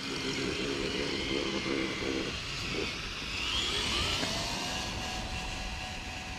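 A lifted 2021 Ford Bronco engine hums faintly in low gear, its tone rising slightly as the truck slowly picks up speed, with a soft voice at times.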